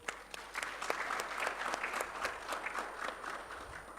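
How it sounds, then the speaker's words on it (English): Audience applauding panelists at a microfinance technology summit in a Kigali convention center, steady sustained clapping from a large crowd, fairly distant, with no talk over it. "Mr. Ukute, Dr. Twinemanzi, Mr. Kwikiriza, may we all please give them a big round of applause."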